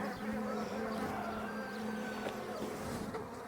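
Honey bees droning steadily at an open hive during frame work, a continuous close buzz with a low hum running through the whole stretch.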